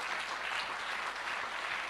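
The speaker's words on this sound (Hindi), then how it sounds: "मैं चाहूंगा कि एक बार इन सब लोगों के लिए जोरदार तालियां होनी चाहिए यार।" A gathered audience gives loud, dense applause, an even crackling wall of many hands clapping for the whole short stretch, with no one speaking over it.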